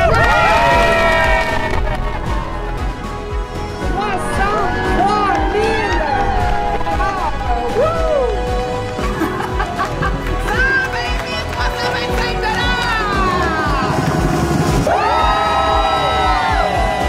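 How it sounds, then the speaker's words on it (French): A large outdoor crowd at a charity walk cheering, whooping and applauding loudly and continuously, with shouting voices and children's cries mixed in throughout. "Vous pouvez vous applaudir."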